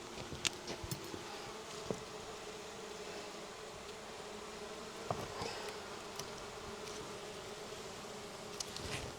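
A steady, faint drone of honeybees buzzes around an opened hive during a May hive inspection, with a few soft knocks and rustles from frames being handled.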